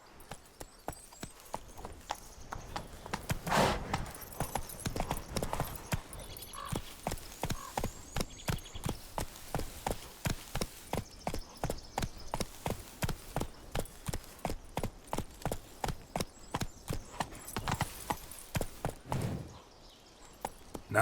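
Roach the horse in The Witcher 3: Wild Hunt gallops along, a fast, regular drumming of hooves that carries on nearly unbroken, with a brief whinny-like swell early on and a pause near the end.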